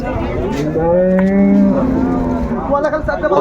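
A cow moos loudly and close at a rural cattle market in Dinajpur, one long drawn-out call with a rising then falling tone, with faint crowd murmur behind it.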